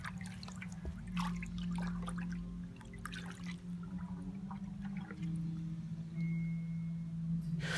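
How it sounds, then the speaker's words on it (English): A big red sponge swishes and squelches through rinseless wash concentrate in a roughly three-gallon bucket of water, giving soft, intermittent sloshes and drips over a low steady hum, fairly quiet and close. "dump the ounce in, mix it up well with the sponge in the bucket"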